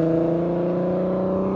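A car driving off, its engine giving a steady, fairly loud whirring hum that holds for a second and a half with no speech.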